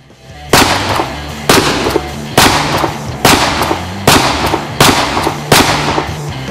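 Mossberg 590A1 pump-action shotgun firing buckshot loads outdoors at a shooting range, eight loud sharp blasts spaced roughly evenly about a second apart, each with a short ringing decay.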